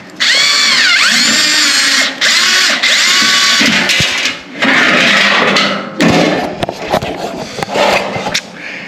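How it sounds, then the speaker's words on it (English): A handheld power drill whines and strains as it drives a self-tapping screw into a car's wheel well, running in loud bursts with brief stops and restarts, close up. "that drill doesn't have enough oomph to it."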